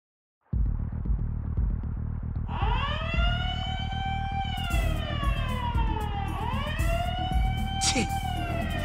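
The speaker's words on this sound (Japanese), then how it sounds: "なんだこの警報は。" An alarm siren in Yakuza Kiwami 2 starts abruptly after a moment of silence and then wails steadily in rising and falling sweeps, loud and close, with a low hum beneath it.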